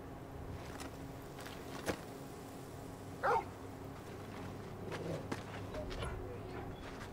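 A dog gives a short bark in Final Fantasy 16, a single brief yelp standing out once over quiet game ambience with faint footsteps and thuds around it.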